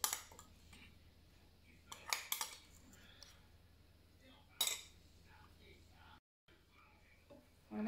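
Seafood and fish pastilla filling being mixed with charmoula, giving a few sharp clinks and scrapes of a utensil against a bowl amid quiet, faint background.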